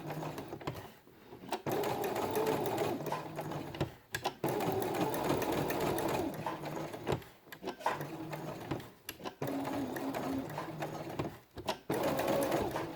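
Sewing machine stitching fabric for a quiet book, a close, quiet mechanical whir in repeated runs with short pauses between bursts of stitching, no voices.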